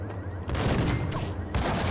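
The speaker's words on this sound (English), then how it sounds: "I'm about to pull out the M79 grenade launcher." An M79 grenade launcher fires in the video game Max Payne, a heavy burst of booming blasts with a dense rumbling tail that swells, drops briefly, then surges again, loud and alone without talk.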